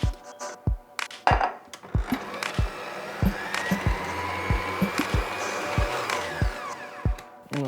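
An electric mixer whizzes cake batter with vanilla seeds and wet ingredients, a steady close whirring drone punctuated by repeated sharp knocks of the beaters against the bowl.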